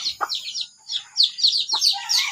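White Kelso chickens on a small poultry farm make a busy run of high chirps and short clucks, close and lively, with no talk over them.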